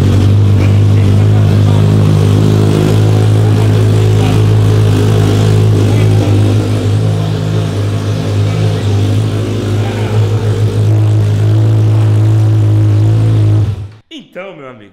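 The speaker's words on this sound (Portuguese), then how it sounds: "vamos pegar essa moto aqui e vamos acelerar" A motorcycle engine runs loud and steady with a deep rumble, revving briefly, then cuts out abruptly near the end.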